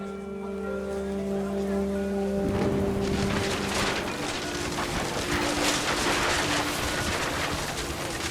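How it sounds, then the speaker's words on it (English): In the video game What Remains of Edith Finch, a steady tone gives way to a heavy wash of pouring rain that continues densely and evenly, loud and close, with no voices. "The rain came down in buckets then, but no one seemed afraid that nature might destroy the tent"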